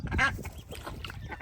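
A duck quacks in a few short, nasal bursts close by, with rustling and splashing water around it at a farmyard.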